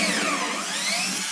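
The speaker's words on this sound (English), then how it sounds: "Sometimes when you're drilling through a large piece of timber, a thick piece of timber" A power drill boring a hole through a thick piece of timber, a loud, steady whirring grind that holds level for the whole stretch and cuts off abruptly at the end, with no voices over it.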